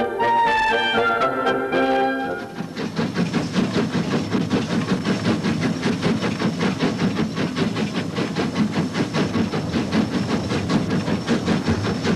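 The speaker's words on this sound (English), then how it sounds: "the puffing steam engine is a friendly, living being" A steam locomotive on a heritage railway puffing steadily, a rhythmic chuffing beat repeating evenly at close range, preceded by a brief tonal whistle-like sound at the start, no talk.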